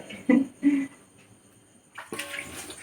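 Dishes are washed under running water: a couple of soft knocks and clatters at first, then the tap gushes in strongly near the end, close and fairly loud.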